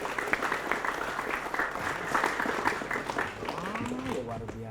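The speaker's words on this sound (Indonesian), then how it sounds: "tepuk tangan dulu" Audience of teachers at a junior high school session in Palembang clapping in a steady patter, with voices and chatter mixed in throughout.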